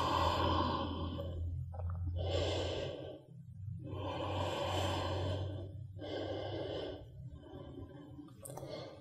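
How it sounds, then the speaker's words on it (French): Slow, deep yoga breaths during a winter flow routine: four long, airy inhales and exhales, close and soft, spaced by brief pauses, without any talk. "Longue respiration."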